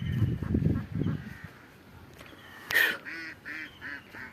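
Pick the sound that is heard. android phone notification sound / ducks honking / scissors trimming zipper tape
ducks honking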